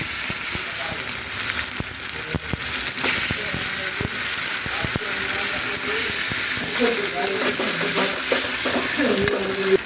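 Ginger, garlic and onion paste fries in a pan with already-fried onions and green chilies while cooking a crab dish, giving a continuous loud sizzle and hiss broken by scattered clicks and stirring knocks; a voice talks over it.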